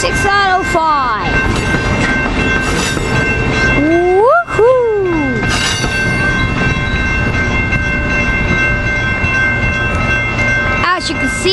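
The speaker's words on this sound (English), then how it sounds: "As you can see, there's a northbound coaster right over there." A northbound Coaster commuter train rolls past in San Diego's quiet zone with a loud, continuous rumble and rattle of cars, a few rising and falling horn-like tones near the middle, and voices talking over it.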